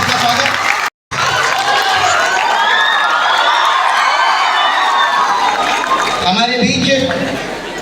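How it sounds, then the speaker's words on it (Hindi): An audience at a school cyber-crime awareness program cheers and claps to welcome a speaker, producing a loud, dense wash of applause and shouting that continues steadily, with a brief break early on. "जोरदार तालियों से आपका स्वागत।"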